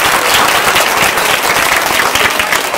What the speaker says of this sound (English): Let's give her a big round of applause to kick things off.